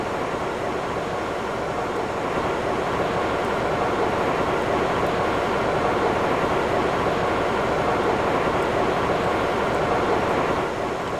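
A subway train moving and slowing down in a Roblox Studio game, heard as a steady, loud, continuous rumbling roar that holds evenly throughout with no talk.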